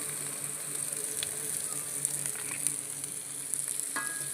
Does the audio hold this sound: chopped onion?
yes